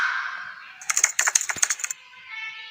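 A short burst of rapid keystrokes on a computer keyboard, about a dozen crisp, close clicks in quick succession, framed by a soft whooshing tone before and after.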